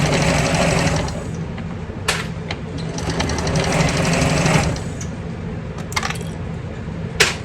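Sewing machine stitching a handbag seam at a 3/8 inch allowance, close bursts of rapid whirring stitching broken by short pauses and a few sharp clicks and knocks, with no talk.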